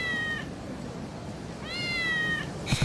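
A cat meows twice in the PSP action game Kurohyō: Ryū ga Gotoku Shinshō, each a drawn-out, clear call over a low game background hum, followed by a couple of soft thumps.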